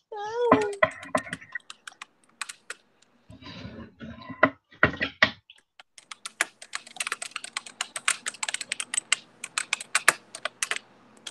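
A short vocal sound at the start, a few scattered noises, then rapid clattery keystrokes on a gaming keyboard, close and busy, continuing to the end.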